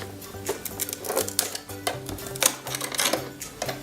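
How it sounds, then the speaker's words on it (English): Scissors snip and cut open plastic packaging around a Google Home Mini, giving a run of sharp, crisp clicks and crackles at close range with no voices. "If I can get my scissors out and cut it open."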